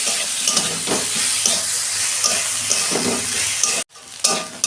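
Brinjal frying in a pan and being stirred, a steady close sizzle with repeated scraping strokes, ending in a brief silent gap before the sizzling resumes.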